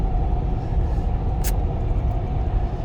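Mercedes G500 4x4² rolling off-road across desert terrain, a steady loud low rumble of engine and tyres running throughout, with one brief hiss-like burst midway.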